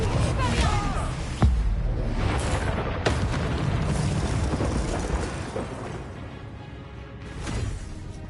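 In the video game Hogwarts Legacy, a Confringo spell explosion lands as a sharp booming burst, followed by rumbling, crackling debris and layered game sound effects, with no talk.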